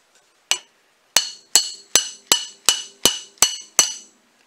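Nine sharp metallic taps ring out in an even rhythm, a tool striking to loosen a nut on the powerhead of a 1955 Johnson SeaHorse 5.5 outboard motor, close and clear with no talk.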